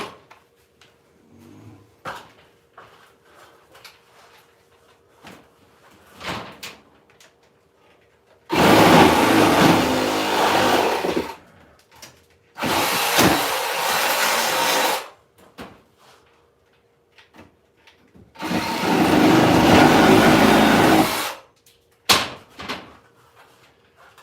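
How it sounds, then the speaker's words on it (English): A Sawzall reciprocating saw runs in three loud, sustained bursts of several seconds each. Quieter knocks and handling noises come between the bursts. "I gotta turn on the sawzall so it's gonna get loud"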